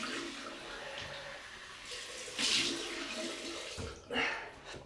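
Cold tap water runs steadily while a multi-blade razor is rinsed, with two brief louder splashing bursts as the blades pass under the stream, close and alone without talk.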